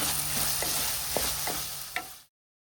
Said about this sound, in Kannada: ಮೂರು ಈರುಳ್ಳಿನ ಕಟ್ ಮಾಡಿ ಹಾಕ್ತಾ ಇದ್ದೇನೆ. ಇದನ್ನು ಸಹ ಸ್ವಲ್ಪ ಫ್ರೈ ಮಾಡಿಕೊಳ್ಳಿ.